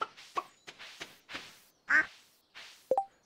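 A duck in the farming video game Stardew Valley gives a series of short, clear quacks at a steady, uneven rhythm, close and alone with no talk over them.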